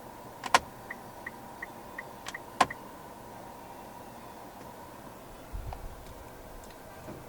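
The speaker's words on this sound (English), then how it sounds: "If you flick on any of the indicators, you can bring up your camera display as well" Turn indicator in a 2019 Mitsubishi Outlander 2.0 4WD ticks quietly inside the cabin in an even, regular rhythm, mixed with a few sharper clicks and faint interior handling noises.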